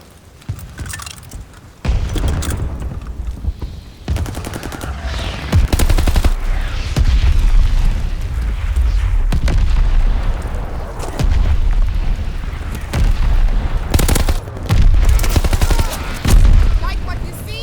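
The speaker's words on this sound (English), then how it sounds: "Allies calling a mortar barrage." A mortar barrage pounds in the Call of Duty: Vanguard multiplayer match on the Gavutu map, with loud, close, overlapping explosion booms and rolling rumble. Scattered gunfire and game voice callouts sound over the almost nonstop blasts.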